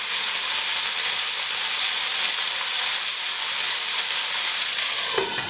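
Steady, loud sizzling of chicken fillets frying in a hot pan, a continuous crackling hiss with no voices.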